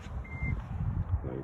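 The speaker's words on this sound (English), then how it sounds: "Light went off, it beeped." A single short electronic beep from a DC fast-charging station as the plug goes into a 2017 Nissan Leaf, heard once over a low, steady hum.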